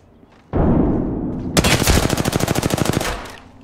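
Automatic weapon fire in the Apex Legends video game: a loud burst of rapid, evenly spaced shots following a heavy opening blast, close and dominant, trailing off at the end.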